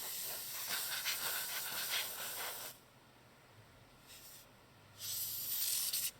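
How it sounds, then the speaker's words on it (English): Compressed air sprays onto the top of a graphics card in loud, close hissing bursts: a long blast, a short puff, then another strong blast, with near-silence between them. "Let's just do a quick spray down of the top here."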